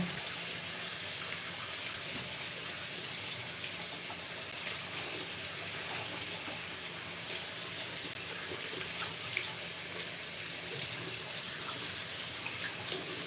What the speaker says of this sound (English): I'm washing my hands with hot water.